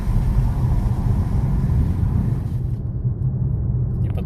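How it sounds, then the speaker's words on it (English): A car on a short test drive after its ABS wheel speed sensors were cleaned: a loud, steady interior rumble of engine and road noise that thins out toward the end. "I'm gonna go for just a little short drive and see if it makes any difference."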